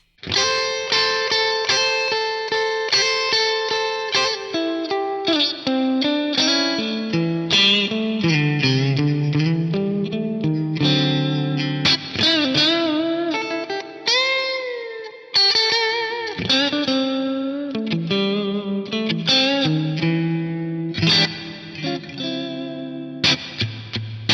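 Distorted electric guitar through an amp modeler's basement amp model plays continuous chords and melodic lines, washed in spacious South Church reverb, with no voices.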